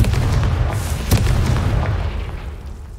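A Confringo fire spell in Hogwarts Legacy bursts with a deep, rumbling boom, a sharp hit at the center, then a rolling low roar that slowly fades.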